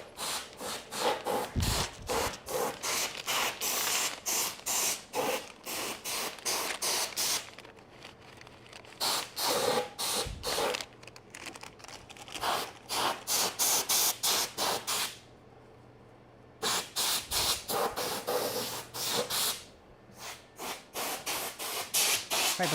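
Compressed air blasts in repeated loud hissing bursts, clearing dust from vacuum gauge parts during cleaning of a cold cathode gauge, with short pauses between sprays over a steady low hum.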